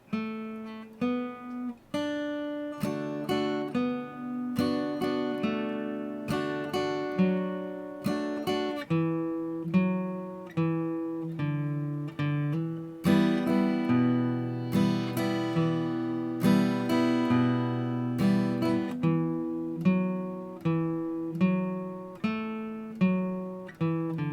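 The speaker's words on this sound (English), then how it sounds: "the whole intro or guitar melody part," A slow, plucked guitar melody from the intro of a song, with ringing picked notes and soft low bass tones, played steadily alone without any voice.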